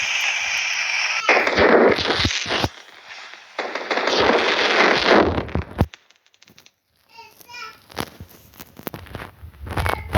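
Fireworks effects in the Piano Kids mobile game, heard as loud crackling bursts over the first six seconds, then a brief near-silence, then a quieter stretch of sparkly pops with faint tonal sounds.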